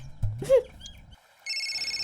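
After a brief sliding whistle-like sound and a pause, a telephone starts ringing with a steady, pulsing electronic tone.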